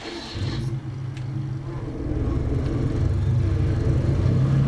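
A truck engine in a video game rumbles loud and low, its drone rising in pitch and intensity as the heavily loaded vehicle accelerates.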